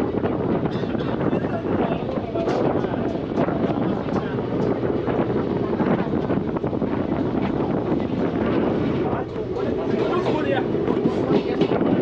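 The Chennai Central–Thiruvananthapuram Superfast Express rolls out from Arakkonam Junction with a continuous rumble, wheel clatter and rushing wind, heard loud and close from on board throughout.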